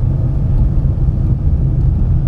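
Tata Nano car driven on a cement road, producing a close, steady low rumble with a faint thudding pulse running through the whole stretch, with no voices.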